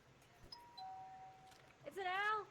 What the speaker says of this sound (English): Don't ring the doorbell.